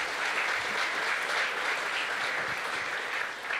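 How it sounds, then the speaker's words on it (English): Steady audience applause at a hackathon closing ceremony as a winner is announced, dense clapping of even loudness for the full length with no talk over it. "Applause."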